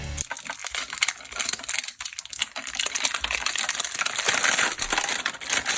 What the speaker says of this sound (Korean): 언박싱 느낌도 나게 비닐도 한번 제거를 해보고